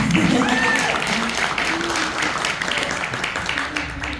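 A crowd at a film Q&A event claps over a steady background of voices, with a few whoops rising above the applause.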